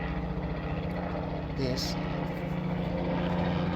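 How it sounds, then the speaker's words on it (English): A steady low drone of an airplane passing overhead sits under a voice talking, at a constant moderate level throughout. "Sorry about that, there's a plane."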